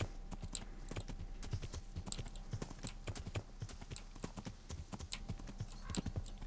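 A horse's hooves clip-clop in a quick, even rhythm across open ground in Kingdom Come: Deliverance, fairly close and clear with little else around it.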